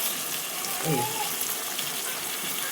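Water poured into a hot pan of masala capsicum curry, a steady gushing hiss with a brief splash in the middle, under faint talk.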